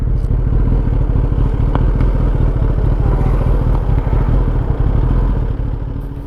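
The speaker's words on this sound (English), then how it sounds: "time for me to put my motorcycle in full power mode" A Kawasaki ZX10R motorcycle runs hard in full power mode, a loud, close, continuous engine roar with rapid pulsing firing beats and wind buffeting throughout.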